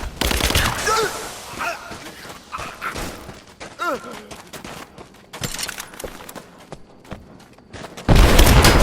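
Gunfire in the video game Rise of the Tomb Raider comes as bursts of sharp shots and heavy thuds at irregular intervals, loud and close, with voices calling out between the volleys and a dense louder blast at the end.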